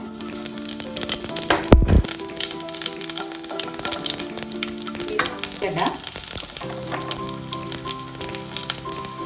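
Cumin seeds fry in hot oil for a drumstick-leaf chutney, making a loud, continuous close sizzle and crackle with a brief louder clatter near the start.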